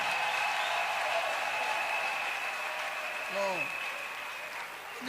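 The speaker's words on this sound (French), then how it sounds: "Est-ce qu'on peut encore acclamer pour lui?" A church congregation applauds at a jubilee service, a steady wash of clapping that holds throughout and thins slightly near the end, with a sustained tone and a brief voice-like sweep mixed in.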